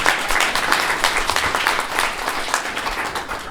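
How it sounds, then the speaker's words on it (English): An audience at a youth entrepreneurship challenge event claps, a steady, dense round of applause from many hands that carries on throughout. "Let's give them another round of applause,"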